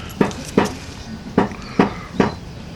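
A dog barks five times in short sharp bursts, a pair, a pause, then three more, fairly close with nothing else.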